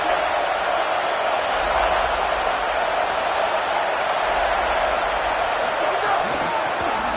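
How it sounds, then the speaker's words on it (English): A crowd at a BYU football game in the stadium makes a loud, sustained roar, a dense wash of noise that stays steady for the whole stretch. "This crowd ready to make its presence known."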